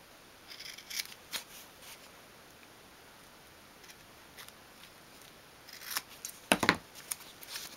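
Scissors snip through a piece of foam being cut for a 1/12th scale dolls house sofa, producing soft, close, scattered cuts with a denser cluster of snips near the end.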